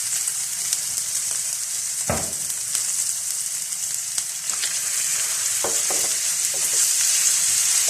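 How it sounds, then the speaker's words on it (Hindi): Minced keema fries in a pan with onion and ginger-garlic paste, a steady close sizzle broken by occasional scraping stirs of the spoon. "और कीमे को अच्छा सा फ्राई कर लेंगे।"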